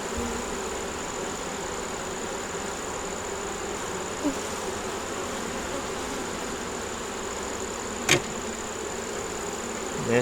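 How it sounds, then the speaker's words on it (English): A frame of brood, nectar and pollen crawls with honeybees whose continuous close buzzing fills the air, broken only by a couple of faint brief knocks. "We got these bees here that we need to get off."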